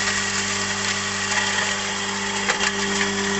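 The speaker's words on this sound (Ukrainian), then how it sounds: "потихеньку мелимо соєву макуху перемелюємо її" A steady, whining motor grinder milling soybean cake runs continuously, with a droning hum and gritty milling noise throughout and no talking.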